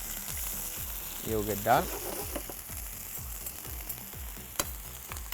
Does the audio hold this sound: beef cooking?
yes